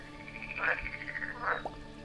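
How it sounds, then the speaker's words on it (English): A toad croaks twice in a throaty, rasping call, with the first croak about a second before the second. Each call is fairly close and clear, and no one speaks. "Merlin's only friend is a toad."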